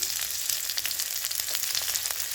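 Black cumin seeds and onion frying in oil in a pan, a close, crackling sizzle with small irregular pops and spits over a continuous hiss.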